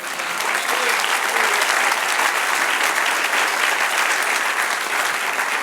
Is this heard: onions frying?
no